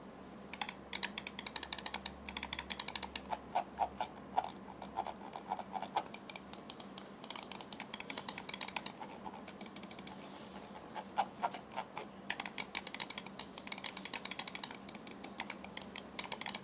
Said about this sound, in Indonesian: Dan ini overall switchnya nggak ada komplain, buat suaranya kayak gini.